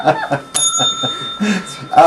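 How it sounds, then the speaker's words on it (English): A bicycle bell rings with a bright metallic ding amid chatter and soft laughter, then rings again near the end. "Stop it with the bell."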